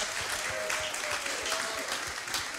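An audience applauds performers at an evening tribute to a New Orleans singer, giving steady, dense clapping throughout at moderate distance with no break.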